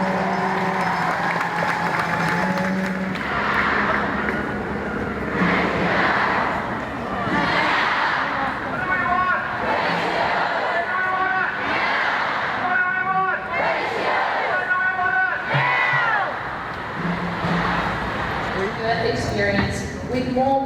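A large crowd of protesters in front of Parliament chants and cheers at a distance, a continuous roar of many voices with rhythmic shouting, heard from far back in the crowd while a person talks nearby.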